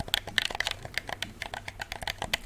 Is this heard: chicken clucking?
no